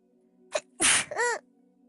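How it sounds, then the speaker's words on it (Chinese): A wet allergy sneeze from a young woman: a short sharp inhale followed by a loud, explosive, spluttering burst and a voiced trailing exhale, heard alone and close-up. "我又要打喷嚏了"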